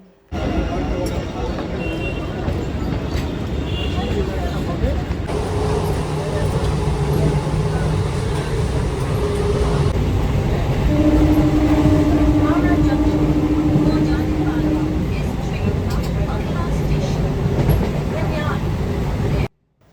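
Rumbling interior ride noise of a crowded passenger train, a constant loud roar with a steady mechanical hum and occasional tonal whines, voices faintly mixed underneath.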